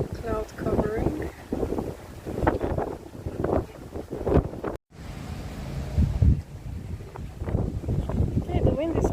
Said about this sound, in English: the wind is picking up, which I don't mind. I just know it's ruining the audio quality.